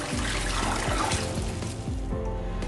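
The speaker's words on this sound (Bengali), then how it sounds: "আমি দিয়ে দিচ্ছি প্রয়োজন মতো পানি।" Water is poured from a container onto hand-mashed lentils in a pot, a steady close splashing trickle lasting a few seconds with no talk.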